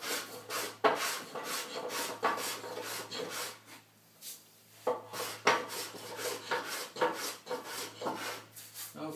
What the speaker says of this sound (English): you can scrape with the grain, or you could also plane with the grain